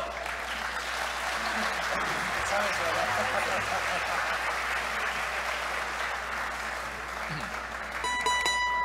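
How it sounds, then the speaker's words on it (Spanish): A large audience applauds a performer being introduced on stage at a formal event, the clapping dense, loud and sustained for the whole stretch, with a faint murmur of voices mixed in. "para recibir el aplauso sincero de todos y cada uno de ustedes"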